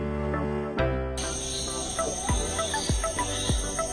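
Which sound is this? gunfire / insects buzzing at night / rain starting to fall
insects buzzing at night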